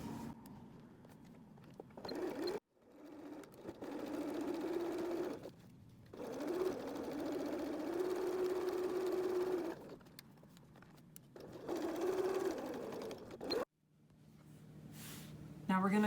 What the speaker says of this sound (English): Now we're going to be sewing from mark to mark using the fleece as a stitching guide.